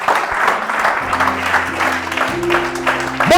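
A church congregation claps in a steady wash of applause, close and fairly loud, while a low sustained tone from an organ or keyboard plays underneath throughout.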